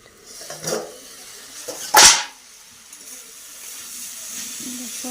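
A cooking pot lid comes off with a short sharp burst of steam hiss in the middle, preceded by a lid clatter and followed by a low simmering background.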